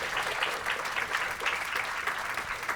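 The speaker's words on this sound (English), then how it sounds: "A round of applause for what you did today." Wedding guests at The Island Hotel in Fort Walton Beach, Florida, clap during a toast, a dense steady wash of applause from a roomful of people, moderately loud and even throughout.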